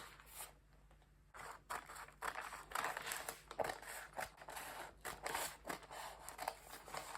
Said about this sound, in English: Now we are going to cut it out.